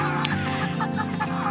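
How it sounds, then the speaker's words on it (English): A free-range rooster roaming a back pasture clucks loudly and close by in a short, steady series of throaty calls. "That's our free range rooster."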